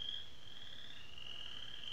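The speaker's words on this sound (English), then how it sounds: "you can hear the frog noises" Frogs croak in a played-back audio recording, a continuous high-pitched chorus of calls that rises and falls steadily over faint background hiss, with no one speaking.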